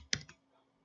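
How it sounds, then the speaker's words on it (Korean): Tab key on a computer keyboard pressed while typing math formulas in a Korean word processor, heard as a couple of close, quiet plastic clicks, one sharp and a softer one following, then near silence. "탭 키보드의 탭키를 하나, 둘, 셋, 넷 정도 눌러주시고요"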